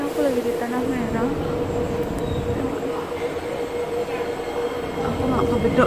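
An MRT train at Tanah Merah station in Singapore rumbles steadily on the track, a continuous loud rolling drone with faint wheel squeal, and people talk nearby over it.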